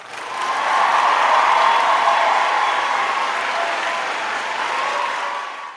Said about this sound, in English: let me give her husband a round of applause